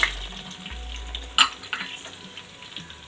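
Urad dal, fenugreek, chana dal, mustard seeds and coriander sizzle in oil for Kerala sambar while being stirred, a steady frying hiss with one sharp clink of a utensil against the pan.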